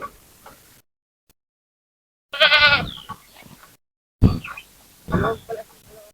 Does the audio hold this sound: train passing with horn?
no